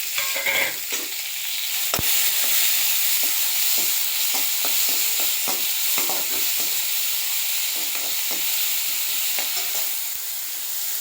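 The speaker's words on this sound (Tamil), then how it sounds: "ஒரு பெரிய வெங்காயம் ரெண்டு பட்டை வட்டை கருவேப்பிலை நல்லா வதக்கிடுவோம்" A large onion with cinnamon and curry leaves sautéing in a pan, steady sizzling and frequent scraping, stirring clicks throughout, close and fairly loud.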